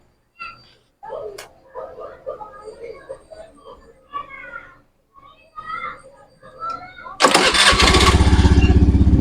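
A Honda Zoomer X scooter engine, freshly fitted with a repaired starter motor, cranks and catches near the end, then runs loud and steady at idle after several seconds of quieter handling sounds and talk.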